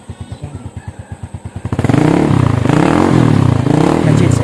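A motorcycle engine catches after a single kick, chugging at a steady idle pulse before revving up loud and close as the bike rides off.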